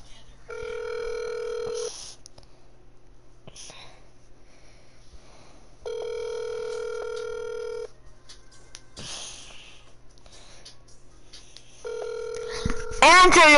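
A phone call's ringback tone sounds three times in steady beeping bursts, separated by long quiet pauses, before a brief rising electronic warble at the end.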